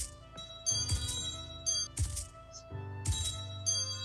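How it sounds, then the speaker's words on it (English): Wind chimes in a virtual-world game ring in several separate metallic strikes, each bright tone sustaining and decaying before the next cluster, close and clear with no talk. "I would love to hear some music from your beautiful wind chimes"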